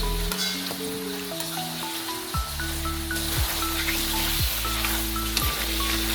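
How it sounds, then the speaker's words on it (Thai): Pork belly sizzles and is slowly stirred in a hot pan for Thai fish-sauce fried pork, a bright continuous hiss with light crackling under a melodic music track, no talking. "พอความร้อนเริ่มได้ที่ปุ๊บ ก็ค่อยๆคนหมูสามชั้นของเราเลยครับ"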